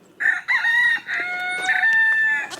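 A backyard rooster crows loud and close in a drawn-out call, with chickens clucking around it and goats nearby on a farm field.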